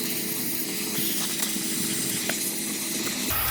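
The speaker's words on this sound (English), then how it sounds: "Now I'm going to hit it with some electrical contact cleaner I got from Napa." Electrical contact cleaner from an aerosol can hisses in a continuous spray onto a corroded car battery terminal, steady and close for a few seconds.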